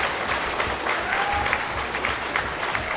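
Comic Con panel audience applauding, a dense steady wash of clapping from a large crowd filling the hall for a few seconds.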